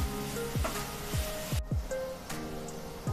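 Jaggery and fresh coconut filling cooks in a pan under a soft sizzle, with repeated scraping strokes of a spoon stirring it at a steady rhythm.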